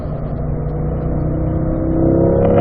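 A race car's engine pulls hard on a circuit as it climbs through the gears into fifth, a steady, loud, close drone that rises slightly in pitch and volume toward the end, with no talking.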